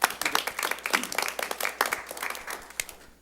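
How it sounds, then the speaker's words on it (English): A round of applause at a city council meeting, a short burst of many hands clapping from a modest group, strong at first and thinning out over about three seconds. "I think everyone involved deserves a round of applause."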